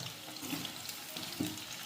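Chicken 65 pakoda pieces fry and get stirred in a pan, giving a faint, steady sizzle with a few soft scraping clinks.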